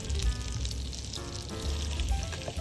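Butter sizzling in olive oil in a saucepan on medium heat: a close, steady crackle of frying with a faint low hum beneath, continuous throughout.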